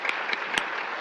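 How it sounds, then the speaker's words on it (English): Short burst of audience applause for hospital volunteers at a health talk, a soft wash of clapping with a few sharper claps poking through, fairly distant. "Let's give them a round of applause as well."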